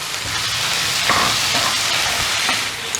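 Tomatoes hit a pan already frying with onion, ginger and garlic for kadai paneer, producing a continuous close hissing sizzle with occasional soft stirring scrapes, no voices.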